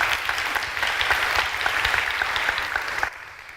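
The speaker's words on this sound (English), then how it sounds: "I think a round of applause for the DCMN team who have put on an unbelievably good event" Conference audience applauding for the event organisers: a dense, steady wash of many hands clapping at once, sustained for a few seconds before abruptly dropping quieter near the end.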